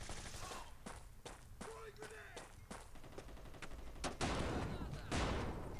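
Bursts of automatic rifle fire from the mobile shooter game Bullet Force crackle in rapid repeated volleys, loud and close, with heavier blasts near the end and a player talking over the shooting.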